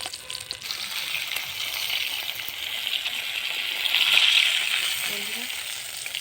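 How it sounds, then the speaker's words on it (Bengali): Bombay duck fish chops fry in hot oil with a dense, steady crackling sizzle that swells slightly midway and stays close and continuous, with no talk over it. "এইভাবে আমি সবগুলো ভেজে নেব"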